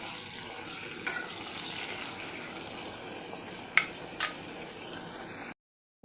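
Tomatoes with salt cooking in a covered pan, giving a steady soft hiss and bubbling simmer throughout, with a couple of faint clinks near the end before the sound cuts out.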